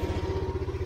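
An excavator engine labouring as it pushes a loaded bucket during earthworks on an access road to a dam, a steady throbbing diesel chug with a fast, regular pulse, close and fairly loud, lasting under a second.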